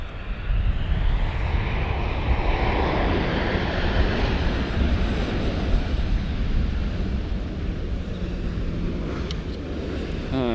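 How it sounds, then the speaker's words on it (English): A narrow-body airliner arriving at Amsterdam Schiphol on runway 18R gives off a steady, loud engine roar close by, mixed with gusty wind buffeting the microphone, and no voices. "First, two more narrow body planes."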